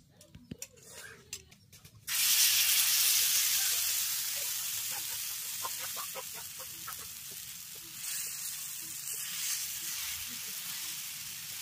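Bottle gourd pitha batter hits hot oil on a griddle with a sudden loud hiss. The sizzle then settles into a steady, gradually fading crackle heard up close. Light clatter comes first, and a bird calls faintly in the background.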